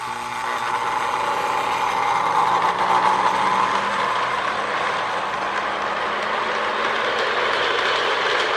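A Lionel MPC GP9 model diesel locomotive runs along its track with a continuous whirring motor hum and rolling rattle, steady and close throughout.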